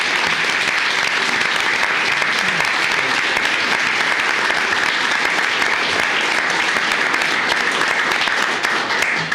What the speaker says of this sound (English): Everybody give Randy a big round of applause.